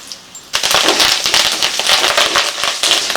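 Curry leaves, dried chillies, pepper, cinnamon, cloves and cardamom hit hot oil for a Chettinad egg gravy, bursting into a loud, close crackling sizzle after a brief quiet start and spitting continuously to the end.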